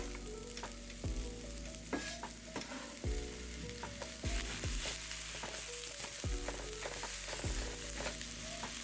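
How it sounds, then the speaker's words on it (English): Chopped onion frying in olive oil in a hot skillet on medium-high heat, a steady sizzle with repeated scraping and stirring strokes close up, no voices. "Roughly chop your onion and add to the skillet."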